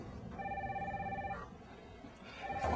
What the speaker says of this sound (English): From now on, from this day forth, Dustin answers all phone calls.